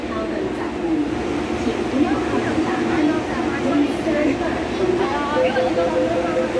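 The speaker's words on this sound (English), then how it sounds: "Let's wait for the train to leave" An MTR Tung Chung Line A-Train pulls out of Sunny Bay station, a rumbling rail drone with rising electric motor whines, heard from nearby over chatter from people on the platform.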